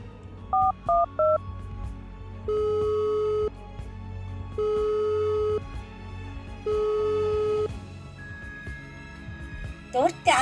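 Three rapid keypad beeps are followed by three long busy-signal tones at a steady rhythm, then a brief higher tone and a clattering burst at the end.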